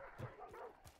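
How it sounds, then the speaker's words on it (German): Dogs bark in the video game Hunt: Showdown, giving two or three short, muffled yips and barks that sound quiet and distant, with no talking. "Hörst du die Hunde eigentlich?"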